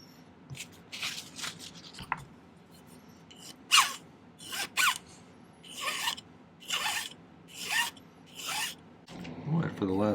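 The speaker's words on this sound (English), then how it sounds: "I'm going to cut it off and just file it down." A hand file rasps a metal ring shank in about eight distinct back-and-forth strokes, each a bright scraping burst with quiet gaps between, close and clear.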